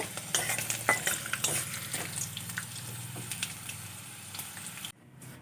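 Curry leaves and slit green chillies tempering in hot oil, a steady close sizzle and crackle with a few utensil clinks, cutting off abruptly near the end.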